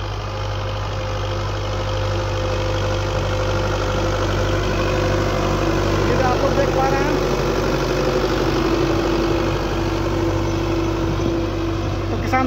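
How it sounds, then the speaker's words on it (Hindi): A Belarus 520 farm tractor's diesel engine idles at a steady, even rumble throughout, close and continuous, with no talking over it. "1 एकड़ में 2 लीटर डीजल लेता है और साल में 1 बार सर्विस होती है इस ट्रैक्टर की।"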